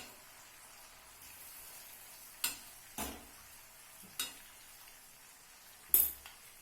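Cane jaggery and sugar being stirred in a pot for sweet-sour tamarind pickle: four distinct scraping clanks of a utensil against the pot, spaced apart over a quiet low background, with no speech.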